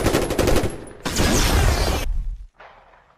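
Loud, rapid gunfire from a dinosaur movie fight scene, a dense fusillade of close bursts that stops abruptly and leaves a fainter, noisy tail.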